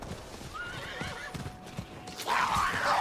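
A horse neighs as it dies in the video game Diablo IV, giving a shrill whinny among clip-clopping hooves, followed by a louder burst of noise, with faint voice sounds underneath.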